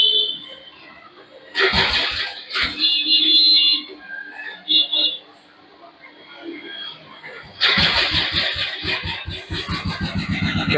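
An old Royal Enfield Bullet motorcycle with an electrical fault is started after some clatter and a few brief tries, then settles into a loud, rapid, even thumping idle close by.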